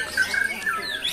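White-rumped shama, a ten-month-old bird, singing at a songbird contest in Bangka, with bright, rapid high warbling phrases and sharp whistled notes close by, steady and loud with no talk.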